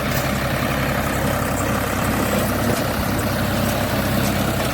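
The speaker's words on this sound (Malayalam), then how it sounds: "ഈ ട്രാക്ടർ കൊണ്ടും പറ്റും ഇത് ഫോർ വീൽ ഡ്രൈവ് ആയതുകൊണ്ട് പ്രശ്നമില്ല" A four-wheel-drive tractor engine running steadily while baling straw, a constant loud low rumble and drone with no pauses or talking.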